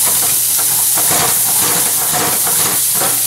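Green pepper sautéing in a pan, a loud, close, unbroken hiss of sizzling oil with rough stirring textures running through it, no voices.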